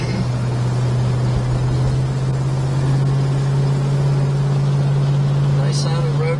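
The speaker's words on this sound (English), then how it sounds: "It's got a real nice rumble to it with the Flowmaster exhaust on." A deep, steady engine rumble from a 1969 Plymouth Road Runner's Flowmaster exhaust drones continuously up close, loud and even throughout.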